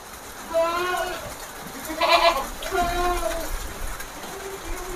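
Several goats bleat close by in a farm setting: a few wavering, nasal calls spread across a few seconds, one louder and harsher in the middle.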